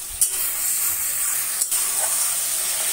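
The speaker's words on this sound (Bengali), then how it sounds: "সামান্য একটু জল দিয়ে এটা একটু কষাবো।" Spice paste for a vegetarian potol dish frying in a pan after a splash of water, a steady bright hiss and sizzle with a couple of small sharp crackles near the start.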